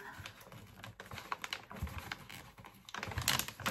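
A small advent calendar gift pouch is opened by hand, giving close, soft rustles, crinkles and light tapping handling noises at low volume with no talking.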